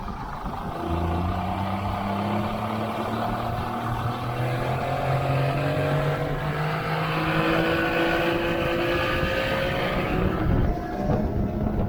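Engine of a 1989 Montauk motorboat running steadily and loud on a sea trial, its drone rising in pitch as it speeds up, with water and wind rush throughout.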